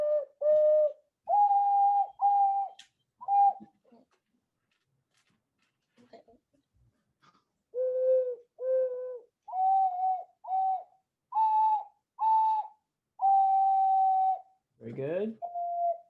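Ocarina playing the melody of Twinkle Twinkle Little Star during an online lesson, clear sustained notes in short phrases with a pause midway and a brief rougher burst near the end, moderately loud and alone.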